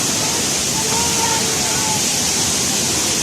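A loud, steady roar of Tagbibinta Falls in Maragusan, Davao de Oro, fills the space, constant and close, with a faint voice barely audible beneath it.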